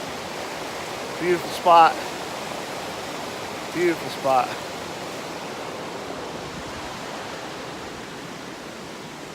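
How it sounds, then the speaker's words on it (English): Creek water flows steadily as a broadband rush while hikers cross Big Creek on a rainy morning near Mt Sterling, with a voice speaking briefly over it twice. "crossing over Big Creek"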